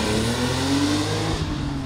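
A sports car, a BMW Z3 M or Datsun 280Z, launches hard from a standing start, its engine loud and close as revs climb steadily over a couple of seconds.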